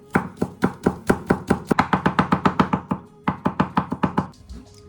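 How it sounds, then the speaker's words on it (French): A kitchen knife finely chopping a garlic clove on a board, with fast, even, sharp taps close by in two bursts separated by a short pause, loud and with no talking. "On va ciseler notre gousse d'ail."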